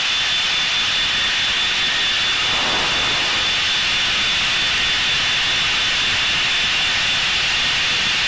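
Inside the cockpit of a Blue Angels #7 jet in flight over the Lake Michigan coastline near Milwaukee, the engine roars as a loud, constant, broadband rush that swells slightly as the aircraft speeds up.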